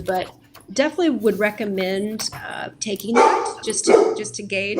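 A dog barks several times in the background while a person keeps talking over it, the sharp yaps coming through between and under the speech.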